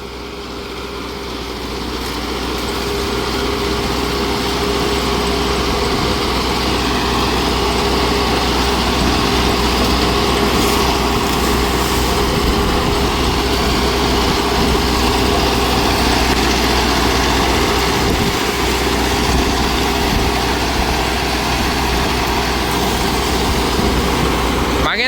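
A Mahindra Novo 755 CRDI tractor of about 75 HP runs steadily in 4th gear, its diesel engine droning loud and even throughout with no talk.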